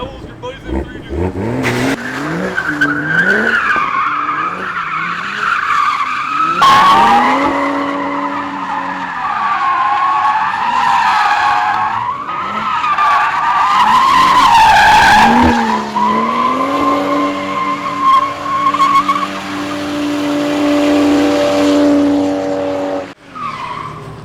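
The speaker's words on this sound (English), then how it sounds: "Maybe a skid or two." A Toyota Supra mk5 skids, its engine revving up and down through repeated slides while tyres scrub and squeal loudly up close; people talk over it throughout.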